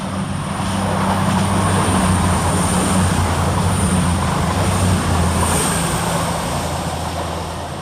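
East Midlands Railway unit 222009 passes through Woodhouse station, a loud, sustained diesel roar with steady low engine tones and broad rushing wheel noise that swells and slowly eases off.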